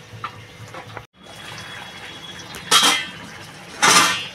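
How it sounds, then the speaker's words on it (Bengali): Water poured into a pan of fish curry: two loud, splashy pours with clatter, alongside pan and utensil knocks, close to the microphone. "আমি একটু জল দিয়ে দেবো।"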